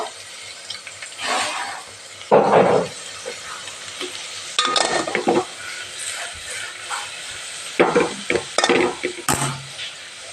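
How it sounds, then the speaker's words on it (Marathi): Garlic frying in hot oil in a pan for sweet mango pickle, with bursts of sizzling and stirring and a few light metallic clinks, close up and without talk. "त्याला बेस गरम तेलातला लसूण कळवून घ्यायचं"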